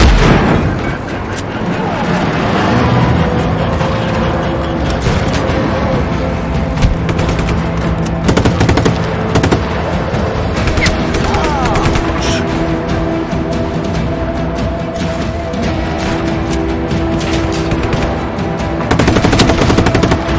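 Heavy video game combat in Just Cause 3: rapid machine-gun bursts, booming explosions and vehicle noise pile up loud and close over twenty seconds, while radio-style voices speak over the chaos.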